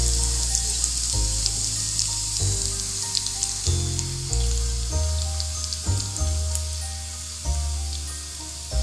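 Traditional Kerala-style achappam rose cookies frying in hot oil, a steady bright sizzle running throughout beneath background music.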